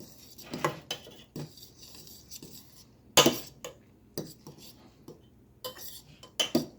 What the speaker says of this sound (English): Stir that stuff in there. Stir that around, yeah.